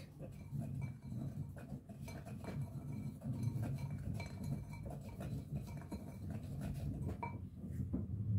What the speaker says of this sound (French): Je vais bien mélanger les ingrédients secs.